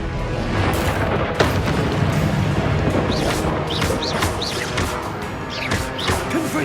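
Repeated Confringo blasting spell explosions in Hogwarts Legacy, crashing booms in quick succession over dense battle noise, with faint voices underneath.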